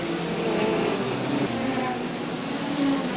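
A pack of hot rod race cars roars off at the green flag start of the 1977 Hot Rod World Final, a dense, loud, continuous engine rumble from many cars accelerating together, with a commentator's voice faintly underneath.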